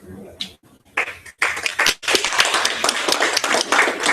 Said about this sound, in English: I don't normally get applause, so thank you.